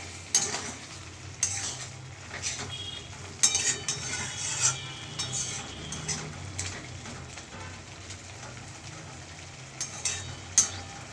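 Prawns in a poppy-mustard paste being stirred in a pan, a soft simmering sizzle broken by repeated scraping and clinking strokes of a spoon against the metal, close and without speech.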